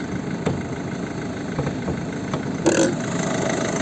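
A 2009 Volvo V50 1.6 diesel engine idles steadily with a low, rough rumble, close by, with a few faint clicks and a brief mechanical whine near the end.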